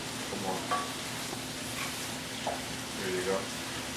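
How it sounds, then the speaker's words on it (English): Meat for ketchup gravy steak browns in a hot pan, giving a steady low sizzle with soft stirring scrapes throughout. "the meat's browning up very nicely here"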